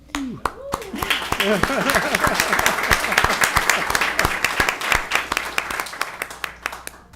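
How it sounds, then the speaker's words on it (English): Scattered applause at a Garden Grove city council meeting, with sharp claps of varying loudness running under continuous speech for several seconds. "Definitely worthy of applause."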